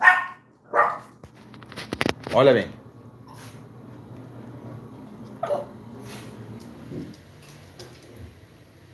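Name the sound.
dog barking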